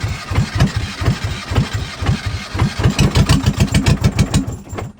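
A catamaran's engine cranks over in fast rhythmic chugging pulses, loud and close, and nearly catches without fully starting.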